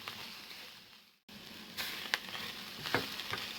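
Mushrooms sizzle in a pan with onion and garlic, a soft steady frying hiss broken by a brief gap and a few sharp stirring clicks and scrapes.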